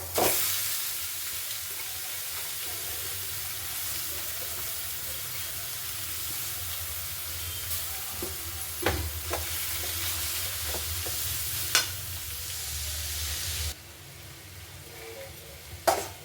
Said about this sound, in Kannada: ನೋಡಿ ಇದು ಫ್ರೈ ಆಗಿದೆ ಈರುಳ್ಳಿ ಎಲ್ಲ